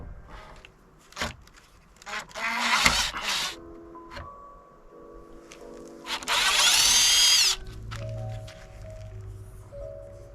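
A finish nailer fires into a wooden chair being repaired with wood glue and a clamp at an off-grid cabin, sharp pops and bursts of hissing air among clattering handling noises, close and fairly quiet.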